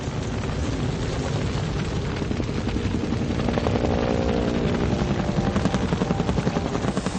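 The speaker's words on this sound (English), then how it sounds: "Firefighting choppers arrive every minute." Firefighting helicopters fly over an Australian bushfire, a loud, continuous rotor roar with a rhythmic thudding pulse that grows more pronounced toward the end.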